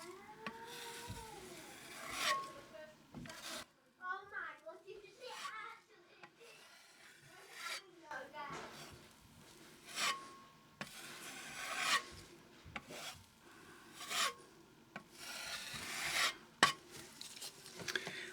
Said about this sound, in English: we're just going to go over that with the larger filling knife